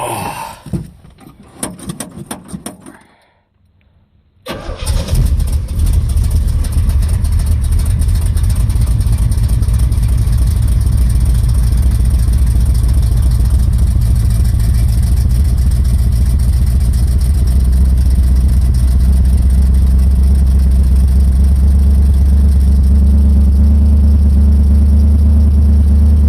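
Muscle car engine cranking after an ignition fix, a few rough bursts and a brief silence, then catching and settling into a loud, deep, steady idle that grows heavier toward the end.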